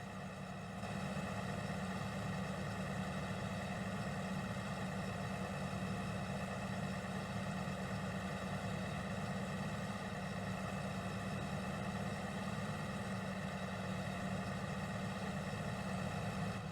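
A tractor engine in a farming video game hums on steadily at idle, a low, faint, constant drone with no talking over it.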